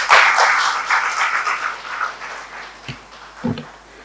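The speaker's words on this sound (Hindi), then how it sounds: "तो जोरदार तालियां" Audience applause at a Hindi poetry gathering and award ceremony at HLM College: a burst of clapping that starts fairly loud, then thins and fades over a few seconds, with a couple of faint knocks near the end.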